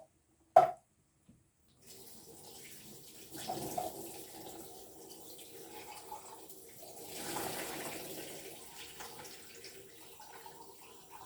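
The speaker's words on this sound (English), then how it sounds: "So I'm going to drain those over the sink and just give them a rinse under some cold water." Cold tap water running at a kitchen sink over drained beans being rinsed, a soft steady splashing and trickling that rises and falls, after a brief clunk at the start.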